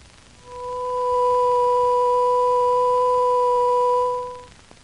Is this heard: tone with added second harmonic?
yes